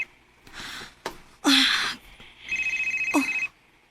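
Telephone ringing late at night, a short electronic warbling ring with a rapid pulsing pattern, heard alongside brief breathy vocal sounds and rustling, fairly close and moderately loud.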